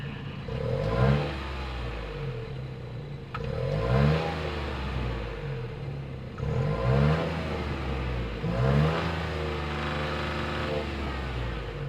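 The 1.5-liter turbocharged three-cylinder engine of a 2026 Nissan Rogue SV revs four times in a row, rising and falling with a throaty hum while idling steadily between blips.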